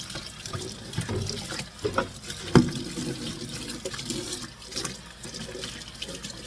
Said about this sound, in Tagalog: hugasan na natin yung bayabas na nakapit ko